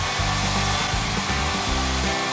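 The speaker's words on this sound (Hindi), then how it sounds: "बाल सुखाने वाली मशीन।" A hair dryer blows in a loud, close, continuous whoosh with a pulsing low hum that shifts pitch in short steps, with no talk over it.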